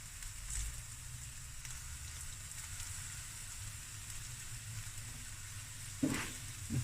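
Garlic and spices fry in a pan with a faint, steady sizzle, and a couple of brief soft clinks come near the end.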